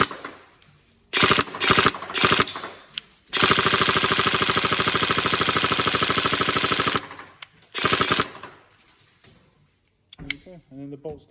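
Tokyo Marui MP5A5 NGRS airsoft gun, repaired, fires several short bursts, then one long sustained rapid burst of about four seconds, followed by two more brief bursts and faint mechanical clicks, loud and close with no talking.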